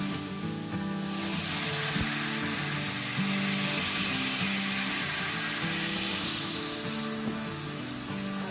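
White cooking wine hits a hot skillet holding chicken sausage and vegetables, giving a loud, steady sizzle and hiss of steam that runs unbroken and close throughout.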